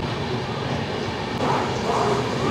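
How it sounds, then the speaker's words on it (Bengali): A train rolling into Bardhaman Junction railway station, a continuous low rumble and mechanical rattle heard from on board, steady and fairly loud, with no clear talk. "আমাদের ট্রেন এসে ঢুকেছে বর্ধমান জংশন রেলওয়ে স্টেশন।"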